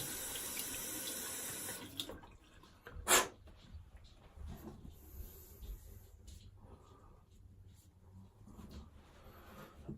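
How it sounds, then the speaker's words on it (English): Tap water runs into a sink as a safety razor is rinsed, a steady splashing stream at first, then quieter trickles and clinks close by. "Let me clean off the razor here."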